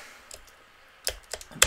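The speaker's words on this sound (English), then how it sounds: "sorry if you can hear the clicking. I have a mechanical keyboard." Clicks from a mechanical computer keyboard during a Terraria gaming session: a few sparse, faint keystrokes early on, then a quick cluster of sharper, louder clacks near the end, with no talking.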